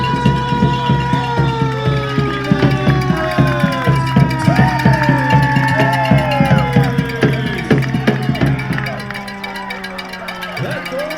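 A goal siren blaring at a small-time soccer match at Lane United, a loud sustained wail with a rising and falling pitch over a cheering crowd, with pulsing drums beneath.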